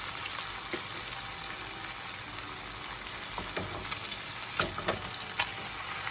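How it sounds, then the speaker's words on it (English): Tilapia fillets brown in a frying pan for coconut curry, giving a constant bright sizzle with scattered sharp pops and spits, close and moderately loud, without any speech. "But I like to brown my tilapia because it gives you a harder texture"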